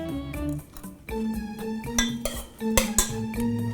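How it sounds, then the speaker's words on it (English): A utensil stirring seasoned sauce in a bowl, with several clinks and scrapes against the dish over a tonal musical backdrop. "Let me mix this up right now."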